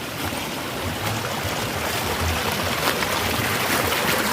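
A stream flowing strongly, a steady loud wash of moving water close by with no pauses, and no voices.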